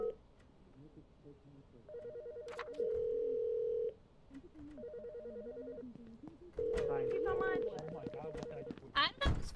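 A telephone ringing in bursts of a repeating electronic ring pattern, each lasting about two seconds with quieter gaps, while voices talk around it.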